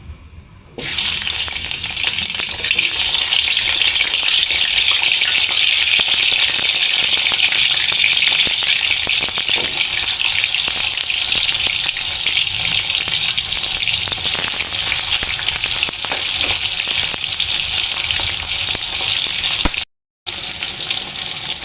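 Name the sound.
frying tomatoes, shallots and red chilies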